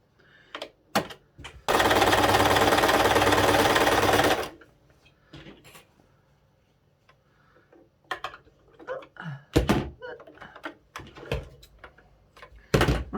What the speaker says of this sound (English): I'm going to just top stitch